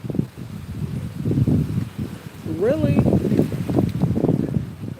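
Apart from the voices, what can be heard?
strong wind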